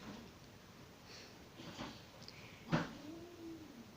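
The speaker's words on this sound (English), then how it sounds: "two of my cats are fighting in the other room" Two house cats play-fighting in another room: faint, distant scuffling thumps with a short rising cry near the end, all low in level against a quiet background.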